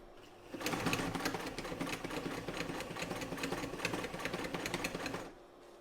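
A Frister & Rossmann 35 sewing machine, modified for heavy-duty leather work with a belt-driven enlarged hand wheel and a 0.445 amp motor, runs in one steady, fast rhythmic clatter for about five seconds, then stops, with quiet motor hum before and after.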